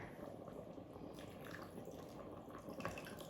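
Beef and vegetables with tomatoes simmer in a pot, giving a faint, steady bubbling and soft popping close by, with no voices over it.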